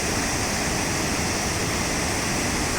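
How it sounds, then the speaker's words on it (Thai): Khone Phapheng Falls in Laos roars as a dense, steady wash of falling water, loud and unbroken throughout with no other sounds standing out. "เบิ่งน้ำตกที่ตกลงมาเนาะมีความงามอีกแล้ว"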